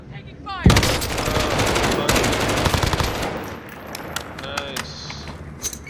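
Rapid automatic gunfire and overlapping shots rip through a video game firefight, loud and dense for several seconds before thinning into scattered bursts, with voices talking over the shooting.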